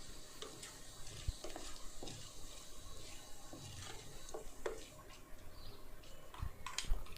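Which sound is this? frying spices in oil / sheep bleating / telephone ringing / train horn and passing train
frying spices in oil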